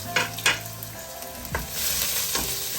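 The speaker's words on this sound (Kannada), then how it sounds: "ಮೊದಲಿಗೆ ಗಾರ್ಲಿಕ್ ಹಾಕಬೇಕು, ಆದ್ಮೇಲೆ ಜಿಂಜರ್ ಹಾಕಬೇಕು." Garlic and ginger frying in a pan for chilli chicken: a few sharp stirring scrapes over a soft sizzle that swells louder toward the end, close by, with no talking.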